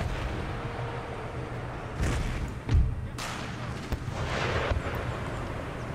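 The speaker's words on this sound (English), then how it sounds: "Superior Western artillery" Artillery fire in the strategy game Empire: Total War, heard as a dull distant rumble of booms with one heavier thump near the middle, over a continuous battlefield din.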